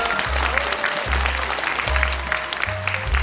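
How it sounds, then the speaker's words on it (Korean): Audience applause at a training session for disability support workers, a continuous patter of clapping from the room with a low droning hum and tones running underneath. "큰 박수로 받으시기 바라니다"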